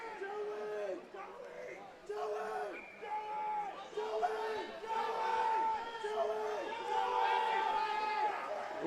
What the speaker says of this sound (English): Rabid crowd here at Extreme Ice Center